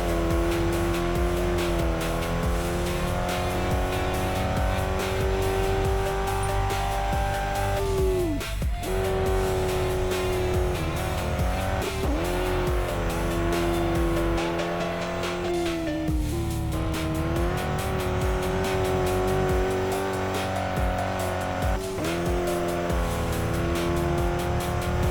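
A rear-wheel-drive car with a drift setup and locked differential in a racing video game, its engine droning and revving continuously while tires squeal through long slides, loud and steady throughout.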